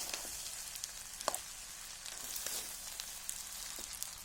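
Onions sauté in hot oil in a pan for khichuri, a faint, steady hissing sizzle with occasional soft crackles throughout.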